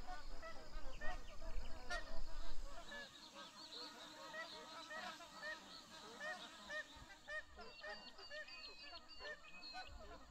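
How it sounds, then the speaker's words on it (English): A large flock of magpie geese honks continuously from paperbark trees in northern Australian wetlands, many overlapping calls from near and far, louder at first then settling into a steady chorus. "A large flock of magpie geese were roosting in the paperbark trees."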